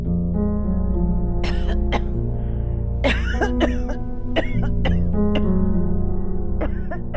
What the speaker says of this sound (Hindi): सारा दिन बदपरहेजी करती है, फिर सारी रात ऐसे खांसती है।